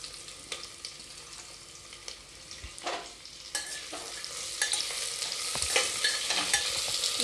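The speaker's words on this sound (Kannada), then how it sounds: "ಇದು ಗೋಲ್ಡನ್ ಕಲರ್ ಬರುವವರೆಗೂ ಹುರ್ಕೋಬೇಕು ಇದನ್ನು" Chopped onions fry in a pan with a crackling sizzle that swells over time, punctuated by scraping and stirring strokes from a utensil, heard close with no talking.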